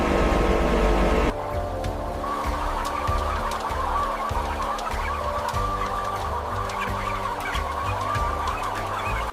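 Chickens cluck and fowl calls rise steadily inside a mega poultry processing factory, heard over constant loud machinery and conveyor rumble, with no talking.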